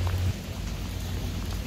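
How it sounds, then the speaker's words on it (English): Heavy rain pouring down outdoors, a dense steady hiss of drops on surfaces that fills the whole stretch, with a low rumble at the start and no talking. "So it's raining really hard."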